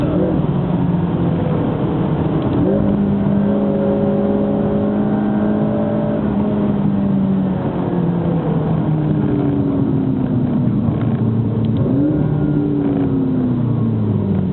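A McLaren MP4-12C Spider's engine accelerates on a road test, its tone climbing through rising sweeps and dropping at gear changes, loud and steady from inside the car with no talk.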